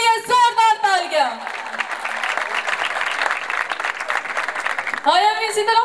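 A congregation at a church healing prayer festival claps loudly for several seconds between a preacher's words, with the voice returning as the applause fades.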